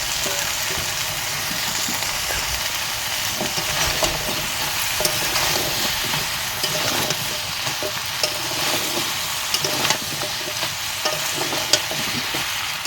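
Chopped vegetables frying in a hot pan, a continuous loud sizzle with repeated scraping stirs and occasional clacks of the spatula, close and steady.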